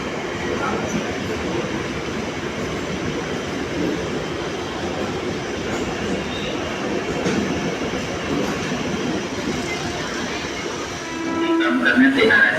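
A Mumbai local train at night rumbles steadily through a station as it accelerates, a broad continuous roar with faint rail clatter, rising louder near the end with brief squealing tones.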